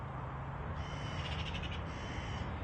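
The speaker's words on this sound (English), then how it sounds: "A lot of birds out as well, you can hear in the background." Birds call outdoors at Manchester Airport, a cluster of high chirps standing out over steady broadband wind or engine rumble, moderately distant.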